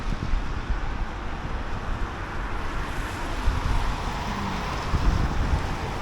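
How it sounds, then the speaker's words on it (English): Blustery wind on a cold, cloudy London street buffets the microphone in a steady roaring rush with low rumbling gusts and faint traffic underneath, no talk. "it's a windy day"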